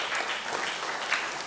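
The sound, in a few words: applause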